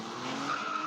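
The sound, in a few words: Aston Martin DB9 car tires skidding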